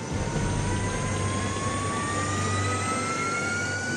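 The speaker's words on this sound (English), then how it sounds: "A menacing bat-like jet fighter bomber, partially made of wood." Loud, sustained roar of a jet engine in the manner of a Horten H9 bat-shaped wooden flying-wing fighter bomber, with a steady low rumble and a slowly rising whine throughout.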